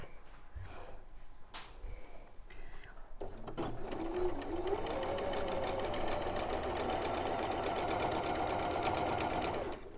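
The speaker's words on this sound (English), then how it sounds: "I'm just going to start sewing down that line and the middle of the strip" A sewing machine stitches down the middle of a folded fabric strip. A few handling clicks and rustles come first, then a steady fast whirring run lasts to the end.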